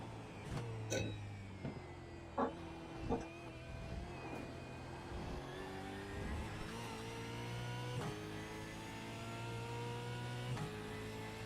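An iRacing race car runs laps at Montreal, its engine a sustained droning whine with rising and falling revs and gear shifts, loud and close with no talk over it.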